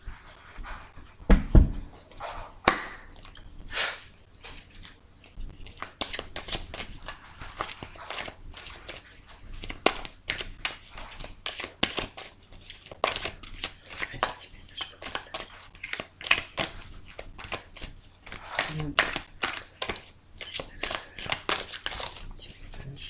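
A deck of tarot cards being shuffled and cut, with rapid papery riffles and taps in irregular bursts close by, with occasional background noises.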